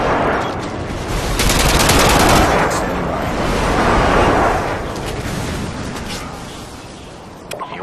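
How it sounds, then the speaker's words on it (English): Friendly airstrike and gunfire in Modern Warfare 2, loud rolling explosions blended with rapid gunfire that swell and fade across the stretch, dense and close. "Friendly airstrike inbound."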